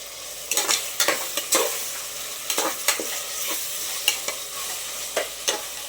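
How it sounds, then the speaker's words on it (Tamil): Tomatoes sizzle in a hot pan while a spoon stirs and scrapes in irregular bursts, close and fairly quiet, with no voices. "நல்லா வதங்கட்டுங்க."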